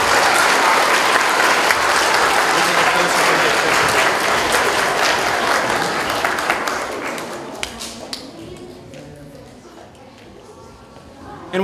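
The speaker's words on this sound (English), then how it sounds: "So let's give her a round of applause." A school audience claps together at an award presentation, the applause loud and dense at first, then thinning and fading into scattered claps and a quiet room toward the end.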